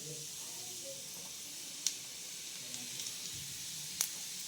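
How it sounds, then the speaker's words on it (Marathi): Chili powder hitting hot oil in a kadhai while cooking shepu (dill) bhaji, a faint, steady high sizzle and hiss with a couple of sharp clinks from a utensil, quiet and close. "तर बघा आता तिखट टाकून घ्यायचं"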